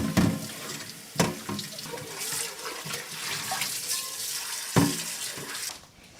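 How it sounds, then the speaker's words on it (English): Running tap water splashes into a sink as a soup pot is scrubbed and rinsed, with a few sharp clanks of metal against the basin. "Quickly I'm going to wash my pot."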